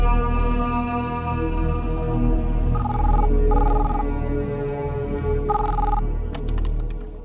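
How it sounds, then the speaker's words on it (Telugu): A telephone rings in two short electronic bursts over a steady tonal background hum, moderately loud and with no voices. "డాక్టర్ రాజా, నీకు ఫోన్."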